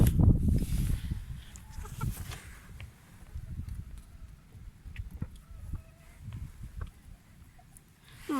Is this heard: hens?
yes